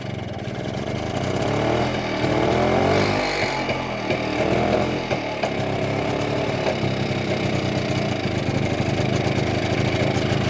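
A BSA Bantam motorcycle engine runs with slipped timing, its close, uneven buzzing idle wavering in pitch with rough surges that suggest misfiring.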